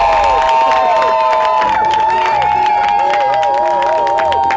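A loud, packed crowd at an influencer party cheers and whoops, with clapping in the mix and excited shouts, while a high siren-like whistling tone wavers over the din throughout.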